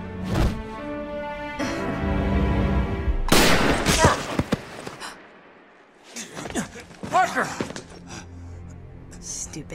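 Gunshots ring out in a Resident Evil game cutscene, several sharp loud cracks and bursts in quick succession, mixed with game sound effects and voices.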